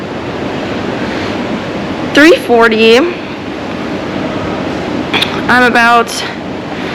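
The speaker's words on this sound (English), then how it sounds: "It's pouring outside." Heavy rain pours outside in Bangkok, a loud, unbroken roaring wash of noise, with a person talking briefly over it twice.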